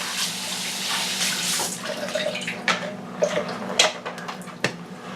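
An AeroPress coffee maker is rinsed under a running tap, a steady splashing stream of water with a few sharper knocks and drips near the end.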